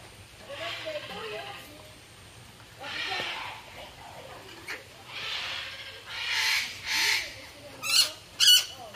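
Squawking calls of a large parrot at a zoo in Malaybalay, Bukidnon, several harsh bursts growing louder toward the end, with people talking nearby in between.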